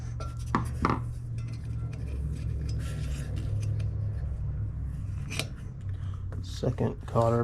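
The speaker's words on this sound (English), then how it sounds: "Second cotter pin out." A cotter pin is worked out during a headlight replacement on a Honda CB200T motorcycle, giving a few sharp metallic clicks and scrapes near the mic over a low background hum, with some talking.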